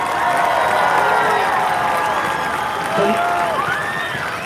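A football game crowd at Brunswick applauds and cheers to welcome the Brunswick Middle School 8th grade band at halftime, a dense, steady roar of clapping and voices filling the stands.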